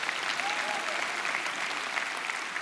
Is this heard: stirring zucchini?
no